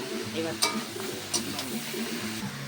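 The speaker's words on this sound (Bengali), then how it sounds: "হলুদ দিয়ে আমি ভালো করে নেড়ে নেব" Water lilies are stirred in a pan with salt and turmeric, making a close, moist crackling sizzle with two sharp scraping knocks of the spoon, while someone talks.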